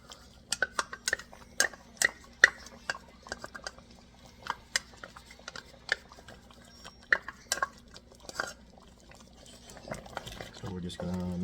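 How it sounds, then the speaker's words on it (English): Brown sugar and oyster sauce for a pork neckbone caldereta are stirred in a pot, giving sparse, sharp clinks and scrapes of a utensil against the pan, quiet overall, with a brief rustle near the end. "So we're just gonna mix this one up"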